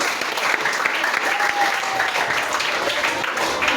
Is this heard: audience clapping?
yes